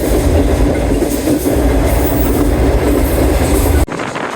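A high-speed cargo train passes close by, a loud, steady roar of wheels and wagons with rhythmic clatter filling the whole stretch before it cuts off abruptly near the end.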